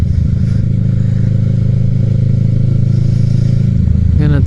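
A motorcycle rides at night, its engine a steady, loud low drone with wind rush, and a voice comes in near the end.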